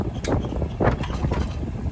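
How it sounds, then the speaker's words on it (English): Gusty wind buffets an outdoor microphone beside a driveway, a low rumbling roar with uneven bursts and swells over two seconds, loud and close with no speech. "got a bit windy, didn't it?"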